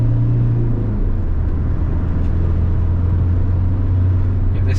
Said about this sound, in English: there's something juddering as I accelerate